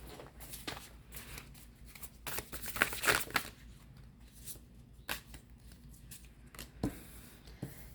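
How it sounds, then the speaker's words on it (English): Tarot cards shuffled by hand, a run of soft papery riffles and flicks with a few sharper snaps, close and fairly quiet, with no talking over it. "so just give me a second to shuffle"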